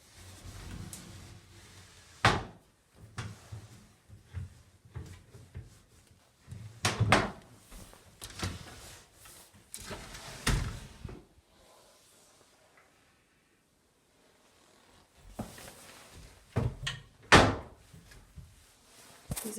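A detached wardrobe door, loose from its bottom hinge, is shifted and handled, giving several dull wooden thunks and knocks with scraping bursts between pauses, close and fairly loud with no talk.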